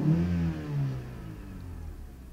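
A Chrysler Voyager 2.4L engine revs up close, its pitch rising briefly and then settling back into a lower, steady hum.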